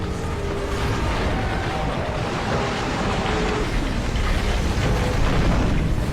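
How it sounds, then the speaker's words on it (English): Loud, continuous rumbling roar from a battleship crashing in a video game, with explosive bursts, churning noise and groaning, twisting metal, dense and sustained throughout without any voices. "Fire, smoke, explosions everywhere, the sound of metal twisting and groaning."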